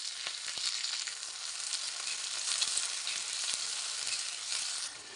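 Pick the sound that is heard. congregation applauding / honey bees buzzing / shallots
shallots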